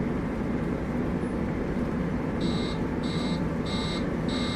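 In the SOMA video game, a track-blocked warning alarm beeps in four evenly spaced, sustained tones over a constant low mechanical rumble.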